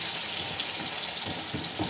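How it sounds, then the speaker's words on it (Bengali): Potatoes frying in hot oil in a pan give a steady, close sizzle that runs unbroken throughout, with no talking. "এখন আমি আলুটা ভেজে নিচ্ছি"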